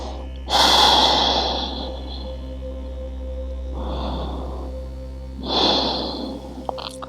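Deep breathing during a yin yoga hold for the lower body, three slow audible breaths spaced a few seconds apart, each a loud breathy inhale or exhale close to the mic over a faint steady background hum.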